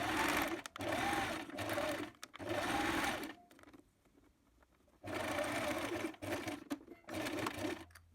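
A sewing machine runs in bursts as fabric strips and triangles are joined for a large patchwork tote bag, with several long stitching runs broken by a quiet pause in the middle, close and steady.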